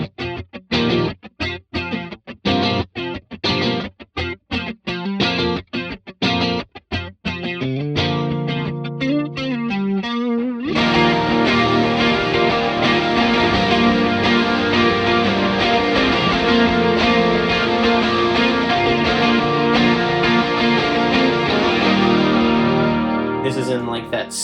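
Electric guitar played through a Headrush MX5 with chorus and reverb on a track, starting with choppy, rhythmic picked and tapped notes and then swelling into a sustained, shimmering wash of chords.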